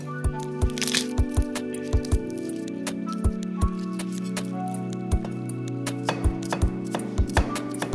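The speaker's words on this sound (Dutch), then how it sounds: "Loog moet u altijd verpletteren met een hakmes." A cleaver crushes garlic with a series of sharp, irregular thwacks against a cutting board, loud and close, over a steady low hum in a kitchen.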